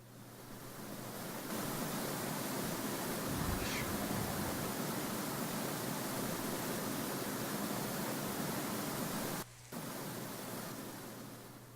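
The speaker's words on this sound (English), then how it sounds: "Is there something behind that waterfall?" A waterfall in the video game Chronicle of Innsmouth gives off a steady, broad rushing roar that stays even throughout, with only a brief dip near the end.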